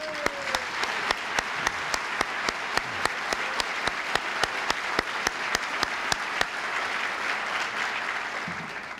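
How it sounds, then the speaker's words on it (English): Applause from a formal gala ball audience at the American Film Institute's Preservation Ball, a sustained roomful of clapping with sharp regular claps standing out near the front. "They've already done it, but can do it again in applauding you."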